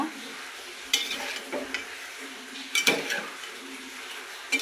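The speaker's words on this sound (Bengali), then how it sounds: "ভালো করে নেড়ে দিব, মশলাগুলোর সাথে ভালো করে নেড়ে ছেড়ে দিব।" Hilsa fish pieces are stirred with spices in a frying pan, a spatula scraping and clinking against the metal in several bursts over a soft, steady sizzle.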